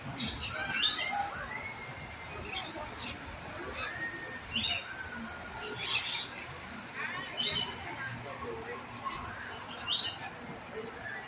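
Assorted birds in the bird area at Busch Gardens chirp, squawk and whistle in scattered bursts over a steady outdoor hum, some calls close and bright, others farther off.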